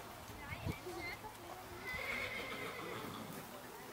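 A horse whinnies amid farmyard noise, with hooves shuffling and people talking nearby.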